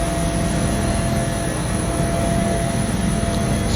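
A simulated Bell 412 helicopter hovers in the X-Plane 11 flight simulator during a search and rescue mission, giving a loud, steady, unbroken turbine and rotor roar with a faint high whine on top and no voices.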